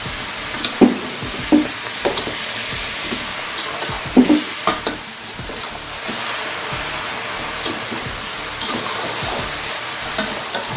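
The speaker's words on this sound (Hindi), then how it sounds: "चम्मच चला के इसको फटाफट से मिक्स कर लेंगे" A spoon stirs mutanjan, a sweet rice dish, in a pot over a soft constant sizzle, with a few louder scraping knocks early on and lighter intermittent scrapes after, close by.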